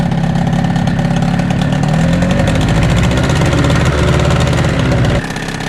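An outboard motor on a cheaply bought broken boat engine runs loud and close, a steady buzzing drone with slight wavering in pitch before it drops off sharply near the end.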